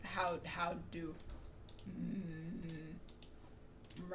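Computer mouse clicks while working in Blender 3D software, a scatter of light clicks in quick runs under a low, humming or murmuring voice.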